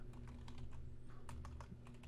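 Steady typing on a computer keyboard, with quick, irregular clicks and clacks close to the microphone, set over a low, constant background hum; no one speaks.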